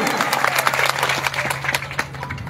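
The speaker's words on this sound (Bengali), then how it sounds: "হাততালি হবে।" A crowd of supporters at a rally of the Adivasi Kurmi community claps steadily in dense, close applause, with a voice faintly audible beneath it.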